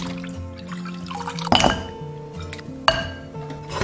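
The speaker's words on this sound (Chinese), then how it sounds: "首先把鸡爪鸡翅清洗干净" Chicken feet and wings are washed in water, giving soft splashing and dripping with a few sharp clinks against a dish. The sounds are close and sit over light background music.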